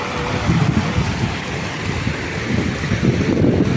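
A small waterfall in the Carpathian mountains rushes steadily beside houses, a loud continuous broadband roar of falling water close by, with no talk.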